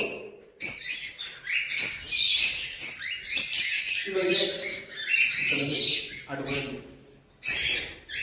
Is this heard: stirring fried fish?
no